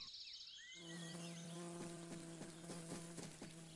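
A honeybee in a children's cartoon buzzes steadily and close, a sustained bright drone joined by a rising whistle, alone without talk.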